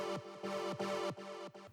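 A warm, full synth layer from Ableton's Operator plays repeated sustained chord stabs with pitch-falling tails, roughly four notes in under two seconds, moderately loud and alone.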